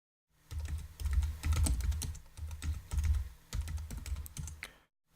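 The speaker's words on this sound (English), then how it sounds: "I'm going to just type in password" A computer keyboard is typed on steadily during a Windows 7 setup in VMware Fusion, as a password is entered in close, clicky bursts of keystrokes with short pauses between them, and no one speaks.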